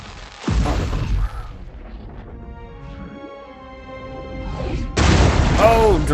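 A bombard cannon fires a shell in Pillars of Eternity II: Deadfire, opening with a heavy booming blast that fades into a low rumble, followed by a second sharp, loud impact near the end; a voice speaks between the booms.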